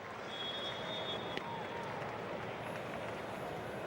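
Cork hurling fans at a Munster championship match against Waterford applaud a substituted player, a faint, steady wash of distant stadium clapping and crowd noise with no distinct individual claps.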